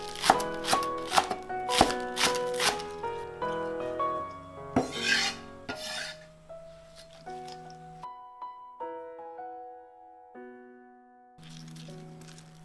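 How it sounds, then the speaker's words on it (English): A knife chopping scallions on a cutting board, with a quick run of crisp chops near the start that then fade out, leaving gentle melodic music playing alone. "Now chop 3 scallions and add to the cabbage."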